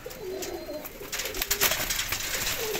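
Several pigeons, including Sialkoti pigeons, coo softly and repeatedly, their low throaty calls overlapping, with some fluttering and rustling nearby.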